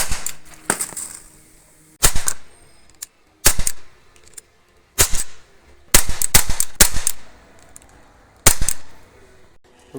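Sharp CO2 air gun shots fired at a metal can crack out one after another in irregular bursts, each snap loud and close with brief gaps of quiet between groups.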